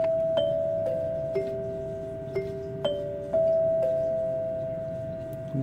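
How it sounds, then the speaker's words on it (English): A Rittenhouse 550 doorbell, its hammers driven by a solenoid, rings out the Westminster chime as a slow series of clear, ringing tones, each struck note sustaining and overlapping the next, close and distinct over faint background hum. "Westminster chime."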